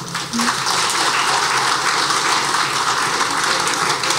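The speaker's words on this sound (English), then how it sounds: "Please give them a round of applause one more time." Steady, dense applause from a fundraising concert audience fills the room at an even, sustained level for four seconds, a continuous wash of many hands with no clear gaps and no voice on top.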